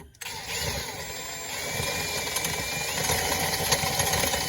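A power drill boring a hole in a Yamaha part during a thrust-vector install, a steady whining motor running continuously and close, with a rising pitch partway through.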